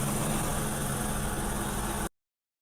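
A car engine in snowy Switzerland held at steady low revs to build pressure, a continuous close rumble that stops abruptly after two seconds.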